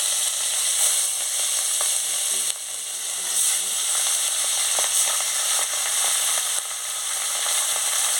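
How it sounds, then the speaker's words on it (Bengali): Turmeric-rubbed fish sizzles in hot oil in a kadai, a loud, steady frying hiss that runs through the whole stretch with small crackles and a brief dip midway. "এবারে কড়া গরম হয়ে গেছে, এবারে মাছটা কড়াই দিয়ে দিচ্ছি"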